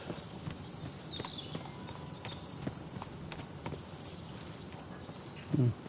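Horse hooves clip-clop steadily at a walking pace over a continuous outdoor ambience in the video game Kingdom Come: Deliverance 2, with a brief louder thump near the end.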